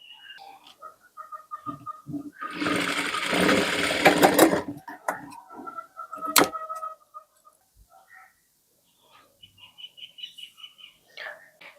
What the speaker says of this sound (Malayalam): ഇനി ഈ എൻഡും അതുപോലെ തന്നെ സ്റ്റിച്ച് ചെയ്യാം.